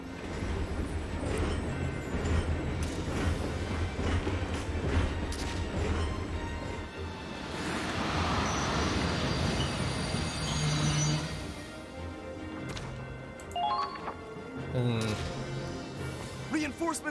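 A train rolls into a battlefield station in the video game Valkyria Chronicles 4, its wheels rumbling and screeching along the rails, with characters talking over it.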